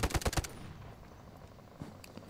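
In the mobile shooter Delta Force Mobile, a quick burst of five rapid gunshots fires at the start, then fades into quiet game ambience with a couple of faint distant shots.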